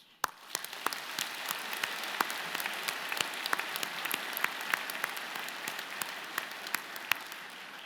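Steady applause from a large audience at a university convocation ceremony, a dense wash of clapping that continues evenly throughout with no voices.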